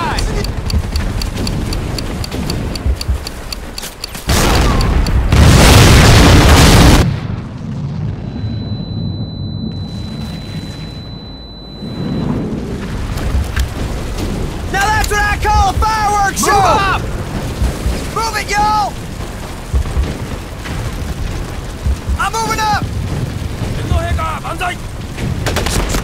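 Heavy blasts and gunfire from Medal of Honor: Pacific Assault, with grenade explosions booming loud and close amid battle, followed by ringing quiet and then sharp shots while soldiers shout orders.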